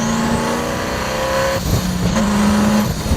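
Hennessey Venom GT engine roaring loud and close, a sustained droning growl that shifts pitch partway through as it revs, with no talking over it.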